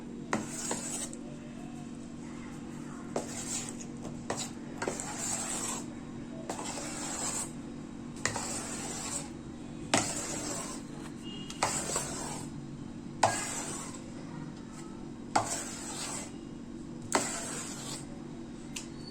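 Repeated scraping and rubbing strokes of a utensil working through thick eggless sponge cake batter with vanilla essence in a bowl, steady and close, with a low constant hum underneath.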